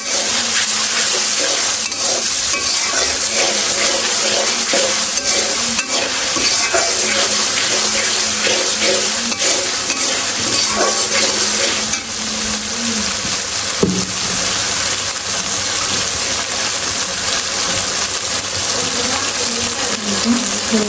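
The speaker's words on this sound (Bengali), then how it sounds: "এই যে আমি সেখানে আদা রসুন দিয়ে দিচ্ছি।" Ginger and garlic frying in a pan with a loud, steady, dense sizzle throughout and occasional faint scraping stirs.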